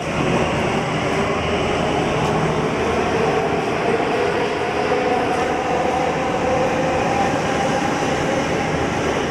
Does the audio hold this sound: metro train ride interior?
yes